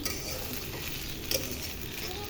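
Small shrimp and peanut bhorta fries in an oily pan with a soft, continuous sizzle and scraping stirs, faint and close, plus a brief clink near the middle.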